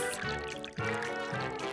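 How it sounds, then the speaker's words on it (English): A water and borax mixture pours into a slime batch with a soft, steady liquid stream, broken into a few short pulses and heard up close. "Now I'll add a mix of water and borax."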